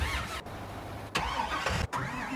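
Tractor engine in the Farming Simulator video game, a steady mid-pitched motor drone with two brief dropouts, fairly close and running alone without talk.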